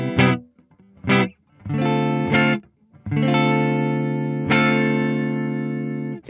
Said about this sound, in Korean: 페이저, 딜레이, 프리앰프, 그 리버브 이렇게 해서 쓸 겁니다.